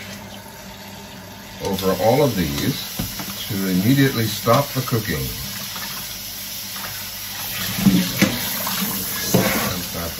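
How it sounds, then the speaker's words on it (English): Steady cool water from a tap pours into a bowl throughout, with a person talking over it for most of the time. "run some cool water"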